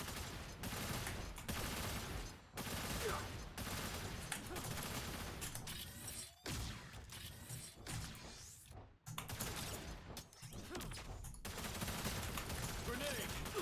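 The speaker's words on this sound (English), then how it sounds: "Firing down range" Dense gunfire in a video game, long runs of rapid automatic shots broken by brief pauses and a few heavier impacts, loud and sustained throughout.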